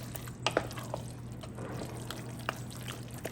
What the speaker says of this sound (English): We're gonna just pour the noodles back in and stir it up like that.